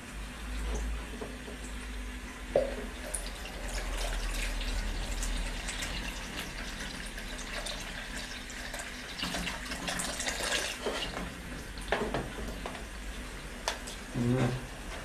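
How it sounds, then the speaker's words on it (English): Nutrient solution trickling and splashing onto hydroton clay pebbles in a hydroponic greenhouse, a steady close pour with a few louder spatters and some faint background sound. "I'm just going to wet the hydrocorn with a bit of the nutrient solution."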